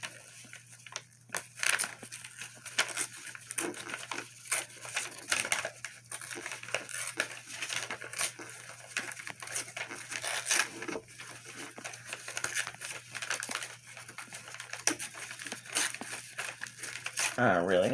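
Paper tags being torn out by hand for crafting, repeated crinkly rips and rustles in irregular bursts close to the mic, with a steady low hum underneath.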